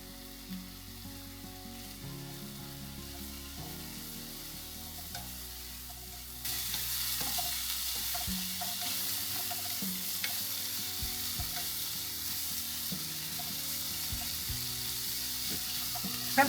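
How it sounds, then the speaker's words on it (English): Shrimp fried rice with frozen peas sizzles steadily in a hot pan, with stirring and scraping; the frying grows louder and brighter partway through and continues without talk. "Shrimp is almost cooked. I'm going to cook the fried rice now."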